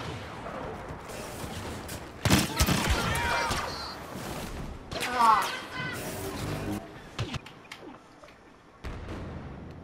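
Scattered video-game gunshots and booms, a few sharp loud cracks among quieter pops, with a voice talking and playing over them.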